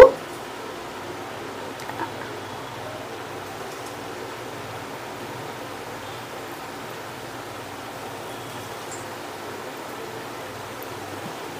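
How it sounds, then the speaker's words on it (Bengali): Food fries in hot oil in a wok, a steady, even hiss that runs unbroken at moderate loudness after a short knock at the start, with no speech. "এগুলো ভাজা করতে দেব।"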